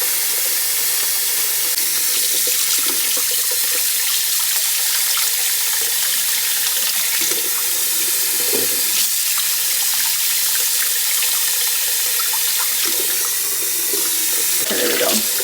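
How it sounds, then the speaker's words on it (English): Cold tap water gushes steadily into a kitchen sink over freshly boiled eggs, a loud, continuous splashing hiss that runs without a break for the full length. "Cold water over the eggs."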